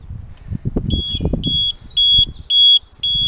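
A series of sharp, evenly spaced electronic beeps from a Zontes 310 motorcycle's electronics, loud and close, repeating like an alarm over low mechanical clicks and rustling.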